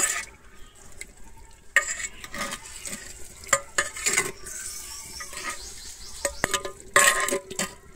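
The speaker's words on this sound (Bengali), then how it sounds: "দিয়ে আমি আবারও খুব ভালোভাবে একটু মিশিয়ে নেব।" Chicken and garlic being stirred in a handi pot, with repeated scraping and clinking of a spoon against the pot over a steady sizzle, close and moderately loud, with no voices.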